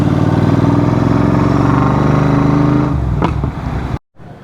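A Royal Enfield GT 650 motorcycle rumbles loudly and close up, its engine note steady for a few seconds before dropping off with a short sharp crackle from the exhaust, then a brief silence.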